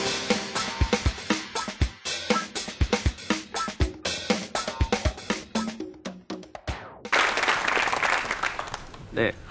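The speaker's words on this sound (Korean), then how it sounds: "큰 박수 한번 부탁드려보겠습니다" Audience applause for a speaker introduced at a Korean youth startup lecture event, starting as scattered sharp claps and swelling into dense, loud clapping toward the end.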